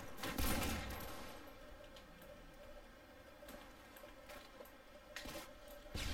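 Rapid game gunfire from Call of Duty: Modern Warfare 2, a sniper-style match, with a sharp burst early and scattered distant shots and clicks over a steady ambient rumble, no talking.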